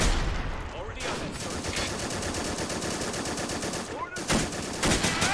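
Rapid machine-gun fire and gunshots ring out in the Men of War: Assault Squad war game at a 1944 Pacific airfield on Saipan, loud dense bursts with brief gaps, ending in sharp separate cracks.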